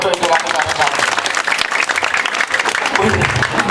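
A crowd at a Calonarang performance at a Balinese temple in Buleleng breaks into loud, dense applause, with voices mixed in throughout.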